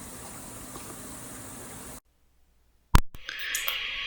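Hot oil sizzles softly, then cuts to silence before a sharp loud crackle as whole cloves, cardamom and cinnamon hit the oil, settling into a bright, close sizzle.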